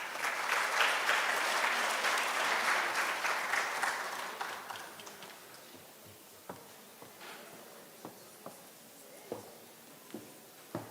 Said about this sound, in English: Let's give Dr. Molefe another round of applause for that amazing information